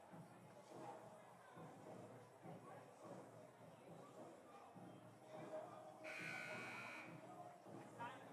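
A buzzer sounds at a high school boys' varsity basketball region final to start the second quarter, a steady electronic tone lasting about a second amid crowd murmur and nearby talking.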